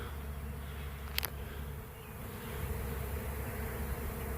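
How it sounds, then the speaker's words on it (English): A honey bee swarm in flight after breaking from a tree limb, a steady dense buzzing hum that holds throughout and swells slightly toward the end, with one brief sharp tap near the start. "Okay, this swarm has broke from the limb for some reason."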